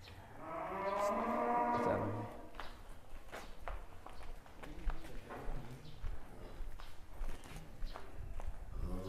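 A huge bull cow moos once, loud and close, with a long low call over the first two seconds, followed by shuffling hooves and farmyard bustle.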